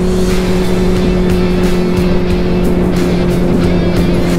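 A Benelli 600 motorcycle cruises along a highway, its engine droning steadily with a strong low hum, mixed with loud wind rush and road noise, continuous and close.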